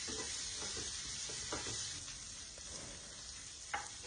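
Soaked soybean chunks frying with turmeric and salt make a soft, continuous sizzle with light scraping stirs, fairly quiet and steady, with no talking.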